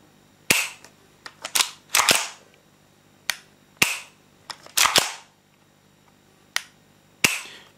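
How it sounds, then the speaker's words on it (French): A Tokyo Marui MP7A1 tan gas blowback airsoft gun fires sharp, close, loud cracks, some single and some in quick double or triple bursts, with short gaps between them and no talking. "Vous tirez, vous tirez, vous tirez, et ça tire sans que vous puissiez vous en rendre compte"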